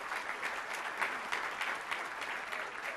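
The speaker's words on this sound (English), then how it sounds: "May I ask the public to give a very important and well-deserved round of applause for our panelists" Applause from the public for a conference panel on smart communities, a steady wash of many hands clapping, fairly quiet and distant throughout the short stretch with no talk over it.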